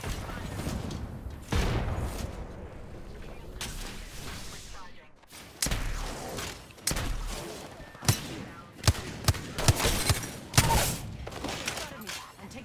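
A frag grenade in a first-person shooter game goes off among sharp bursts of gunfire and booms, with several loud cracks in the second half and a voice speaking briefly between them.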